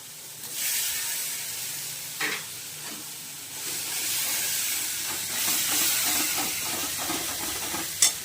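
Cashew, melon seed and green chilli paste goes into a hot pan for a vegetarian paneer gravy, giving a steady close sizzle and hiss with a few louder spatters and stirring scrapes, no talking.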